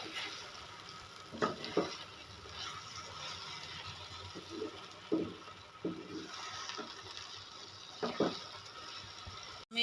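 Grated coconut being stirred and fried in a pan while a kochur loti dish is cooked: a low, steady sizzle with scattered scraping strokes from the spoon, fairly quiet and close, with no talking.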